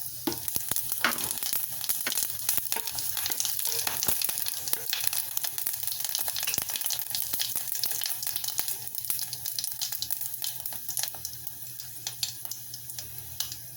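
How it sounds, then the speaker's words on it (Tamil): Whole cinnamon, cloves, cardamom, fennel and cumin sizzle steadily in hot oil, with dense crackling pops and a constant frying hiss throughout. The sound is close and busy, with no talking. "இப்போ ஆயில் நல்லா ஹீட் ஆயிடுச்சு. ஒரு பட்டை, 3 கிராம்பு, ஒரு ஏலக்காய், கொஞ்சமாக சோம்பு, கொஞ்சம் ஜீரகம் எடுத்துருக்கிறேன். இதெல்லாம் போட்டுடலாம்."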